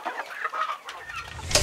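Chickens clucking on a farm, a few short calls close by in a brief burst, with a louder squawk near the end.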